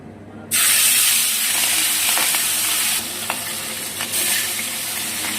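Pieces of katla fish drop into hot mustard oil and burst into a loud, bright sizzle that stays strong and steady, with a few crackles and small pops as frying settles.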